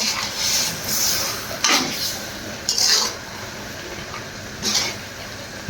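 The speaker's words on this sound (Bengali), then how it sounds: "তো এবার ঢাকনাটা তুলে তরকারি নেড়ে দেব।" A metal pot lid is lifted and a spoon stirs rui fish curry cooked with winter vegetables and potatoes, producing a few sharp clinks and scrapes of metal against the pot amid soft kitchen background noise.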